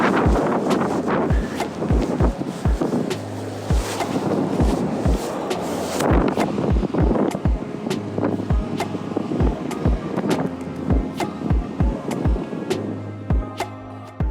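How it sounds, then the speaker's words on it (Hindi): Strong wind buffets hard on a Big Sur beach along the California coast, a constant roaring rush with repeated sharp gusty thumps and crashing surf beneath, loud and close throughout. "इस बीच पर हवाएं और लहरें हमेशा तेज ही रहती हैं."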